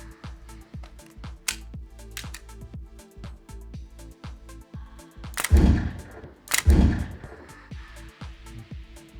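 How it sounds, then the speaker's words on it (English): Two sharp, loud reports from a simulator training pistol fitted with a holographic optic, each a broadband crack with a short ringing tail, spaced about a second apart over a background of quick clicks and shuffling. "Nick will be showing us a 3-round course of fire."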